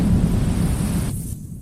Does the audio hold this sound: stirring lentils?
no